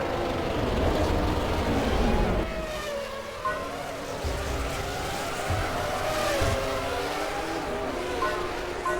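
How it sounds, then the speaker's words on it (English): A Formula 1 car slowing into the Monaco pit lane in F1 2005 on PS2, engine whine sweeping down through gear changes with tyre and crowd noise behind, a commentator talking over it. "Into the pits comes the race leader."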